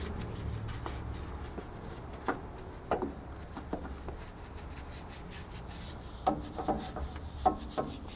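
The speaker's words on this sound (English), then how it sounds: "Just scrub it back and forth." A brush scrubs back and forth under a dirty, rust-spotted vehicle undercarriage during detailing. The strokes are soft and low, with occasional sharper scraping bursts, all faint and fairly distant, and no one talks.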